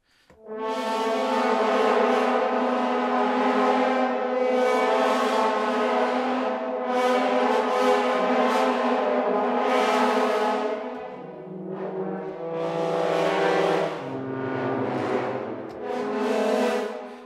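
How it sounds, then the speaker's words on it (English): Sustained brassy orchestral flutter-tongue tones with a rough, fluttering texture, swelling and fading in long looped phrases that shift pitch partway through. "These are all loop flutter tongues, looks like."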